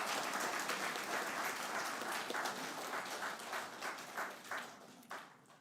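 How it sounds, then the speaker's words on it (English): An audience at a meeting gives a round of applause for Mrs. Gonsalves, a dense, fairly distant wash of clapping that thins into scattered claps and fades out at the end. "Give Mrs. Gonsalves a round of applause."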